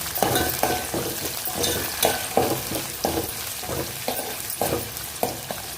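Onions fry with chilli, curry leaves and garlic in a pan for a Krishna district style amaranth leaf fry, a steady close sizzle broken by regular stirring scrapes roughly every half second, with no talking.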